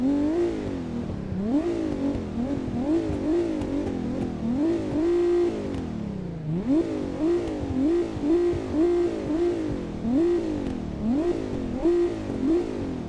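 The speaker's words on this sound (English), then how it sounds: "you get into the engine compartment and you can see the mighty V6" A 2017 Ford GT supercar's EcoBoost V6 engine revs repeatedly up and down in close, loud, rhythmic bursts, a harsh, angry-sounding blip pattern with no talk.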